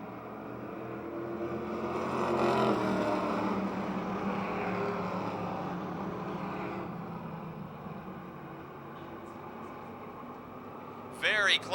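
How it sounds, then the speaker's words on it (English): Street stock race cars run bumper to bumper at a speedway, a loud continuous roar of engines under a race announcer's voice throughout. "Very close racing bumper to bumper for the lead out of turn number 2."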